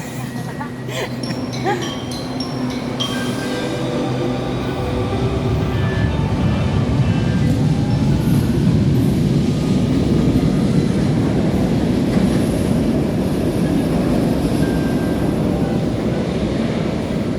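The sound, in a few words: LRT-1 light rail train at station platform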